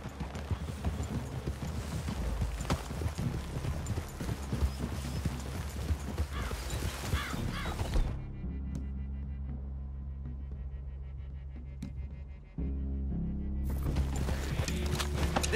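Hooves clip-clop steadily as horses walk, with a low hum beneath; the scene drops to a quieter drone for a few seconds before resuming.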